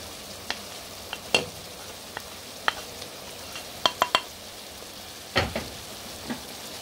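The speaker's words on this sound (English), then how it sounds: "now I'm going to add the rest of my vegetables. First, my potato that I diced very small." Finely diced potato and other vegetables go into a frying pan for Mexican picadillo stew: a soft background sizzle with scattered sharp clicks and scrapes of pieces and utensil against the pan, close and fairly quiet.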